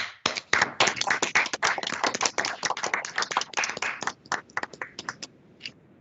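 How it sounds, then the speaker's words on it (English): Scattered hand clapping from a small group over remote microphones honors new attorneys at an appellate court ceremony, dense at first then thinning to a few isolated claps. "I invite my colleagues to unmute their mics and join me in applauding the new attorneys"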